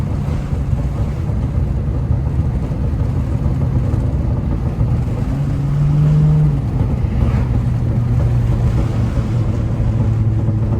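Honda Accord V6 engine in a car driving in the rain, a steady low engine drone with a brief rising rev near the middle of a downshift, heard from inside the cabin with road and wind noise.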